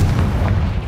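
A Confringo fire spell bursts in Hogwarts Legacy, a single heavy, close boom with a deep rumbling body that holds loud through the brief moment.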